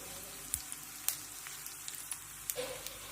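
Coriander and cumin seeds with chana dal dry roasting in a pan, a soft continuous crackle with scattered light pops and stirring taps, quiet and close.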